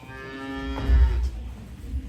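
A cow of Helios moos in a high school stage play of The Odyssey, one long droning low moo with a rising, swelling middle and a deep rumbling tail, fairly close and loud.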